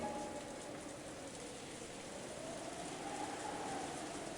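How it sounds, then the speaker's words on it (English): Steady rain in the Umineko no Naku Koro ni visual novel, a soft, even wash of falling drops with a faint low rumble beneath, continuous and unchanging, with no voices. "In this silence, the sound of the rain snuck into the dining hall."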